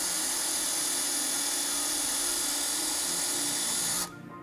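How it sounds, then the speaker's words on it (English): A power drill bores holes in a Harley touring saddlebag while fitting lid rails, giving a steady high-pitched whine that runs about four seconds and then stops abruptly, heard close up with no talk. "So now I'm gonna drill"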